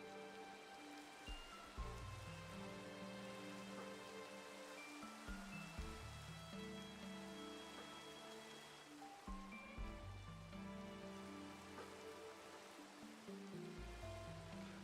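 Steady rain in the game Minecraft, a soft continuous hiss of falling drops mixed with mellow background game music, no one talking.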